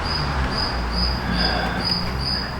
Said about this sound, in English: Got the crickets moving in here.